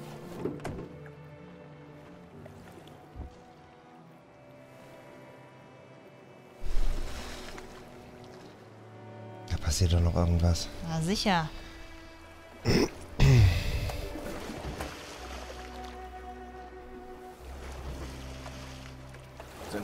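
A boat is pushed through water in the Detroit: Become Human video game: sloshing splashes and dull hull thunks sit over a soft game music bed, with scattered loud knocks and brief talk.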